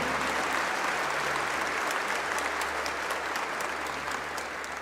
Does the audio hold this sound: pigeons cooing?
no